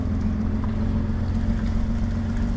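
A car's muffler, louder than it should be, drones in a steady low rumble as the engine runs, close and unbroken with no talk.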